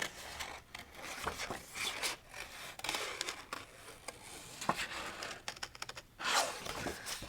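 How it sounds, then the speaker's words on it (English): Scissors snip carefully around a cut-out paper flower piece for a mixed-media craft project, giving a run of small, close, crisp cuts and rustling paper at a steady, unhurried pace, with no talk. "So I'm just going to carefully cut around that in case we can slip that in."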